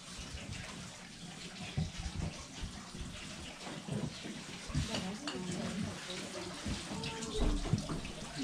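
Water running and splashing inside Moaning Caverns, a steady broadband rush with scattered drips and clatters, echoing in the cave, with voices talking faintly at times.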